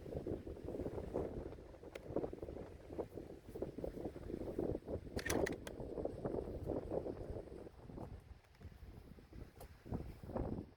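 Strong wind buffets the microphone at an outdoor rifle range, a loud continuous rumbling roar with gusty surges throughout and no speech.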